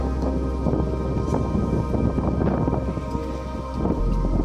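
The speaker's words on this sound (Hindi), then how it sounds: "जोर वर्षा पड़े" Heavy rain from Cyclone Yaas pounds down steadily in Dhenkanal, seen from a rooftop, with low thunder rumbling through the dense downpour and no voices.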